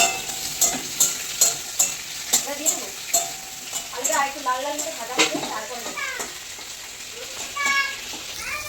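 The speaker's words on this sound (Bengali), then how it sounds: "এই যে দেখতে পাচ্ছ আলুটা কিন্তু লাল লাল করে ভাজা হয়ে গেছে" Potatoes sizzle in a pan while a spoon scrapes and stirs in regular strokes; a person talks intermittently over the frying.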